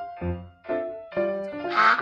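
A duck quacks four times in a row, nasal and evenly spaced, close and clear with no other sounds around.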